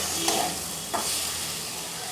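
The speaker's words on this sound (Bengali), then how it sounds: "এবারে খুব ভালো করে এটাকেও কষিয়ে নেব" Boiled yam and potato sautéed in spiced oil sizzle steadily and close by, with two quick stirring scrapes in a brief stretch without speech.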